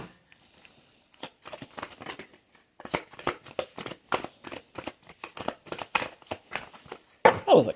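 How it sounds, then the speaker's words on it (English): A deck of tarot cards is shuffled by hand up close, making a series of quick papery riffles and crackling bursts that grow louder toward the end. "That was a crappy shuffle. Let me do it."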